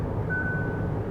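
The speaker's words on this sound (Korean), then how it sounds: "15초쯤 됐을 적엔 이제 사운드로 알람을 또 주네요." A 2020 Hyundai Grandeur Hybrid sounds its hands-off steering warning: a single steady electronic chime tone starts partway through and holds, clearly audible over low cabin road noise.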